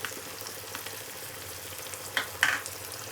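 Tomatoes and green chillies frying in a pan for a spiced brain masala, a steady soft sizzle with a few louder crackles and stirring scrapes near the end.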